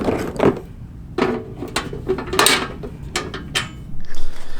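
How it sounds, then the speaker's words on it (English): A burner is screwed tight onto an ammo can fire pit, making a series of close metal scrapes, ratcheting clicks and knocks in short irregular bursts. "And then we're going to screw the burner on tight."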